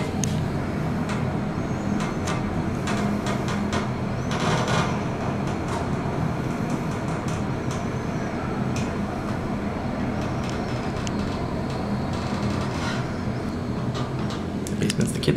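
Elevator motor in a bookstore running through a ride, a steady low mechanical hum and rumble with light clatter on top, close and continuous.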